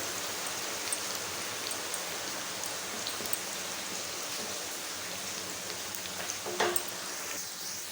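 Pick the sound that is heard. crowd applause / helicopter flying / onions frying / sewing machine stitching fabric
onions frying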